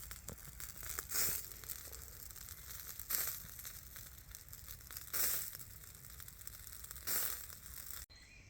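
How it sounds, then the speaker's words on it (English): Chicken thighs sizzle over a campfire grill in a woodland camp, a steady crackling fry with several louder bursts of spitting fat every couple of seconds, close and without talk. "Okay, so we have got some chicken thighs on the grill."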